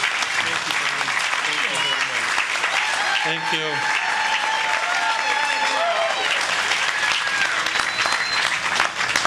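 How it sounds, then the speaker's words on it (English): A crowd at the Bradenton Riverwalk grand opening gives an honoree a warm round of applause, sustained and loud throughout, with someone briefly speaking over it. "give him a warm, appreciative round of applause"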